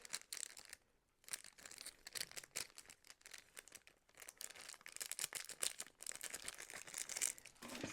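Crinkly plastic packaging from a model kit is crumpled and rubbed up close, a steady crackling rustle that pauses briefly near the start and then runs on with no talking.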